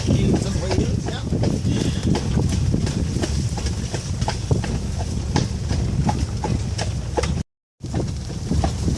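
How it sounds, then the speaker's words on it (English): Horse hooves clip-clop steadily on a town road in Ireland, a continuous rhythmic clatter of hoofbeats with passing traffic and voices mixed in, briefly cutting out near the end. "Car and the horse Great Balls of Fire"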